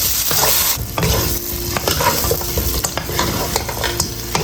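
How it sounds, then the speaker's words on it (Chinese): Pork ribs and fried potato strips tossed in a wok over high heat with hotpot base, ginger, garlic, dried chilies and Sichuan peppercorns: loud, continuous sizzling broken by repeated sharp scrapes and clanks of stirring. "炒香以后下排骨，大火翻炒，然后把炸好的洋芋条下进来"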